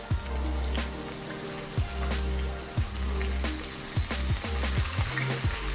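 Calamares searing in a hot pan give a steady close sizzle with repeated stir-and-scrape bursts as the pieces are moved, and the crackle rises and falls with each turn.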